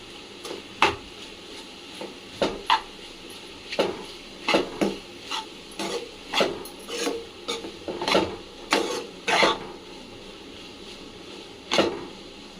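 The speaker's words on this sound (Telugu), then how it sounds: "ఈ అల్లం వాసన పోయేంత వరకు మనం కలపాలి" Turmeric and ginger paste being stirred into a carrot egg curry in a pan, heard as a series of scraping, rasping spoon strokes at an irregular pace, close and clear with no talking.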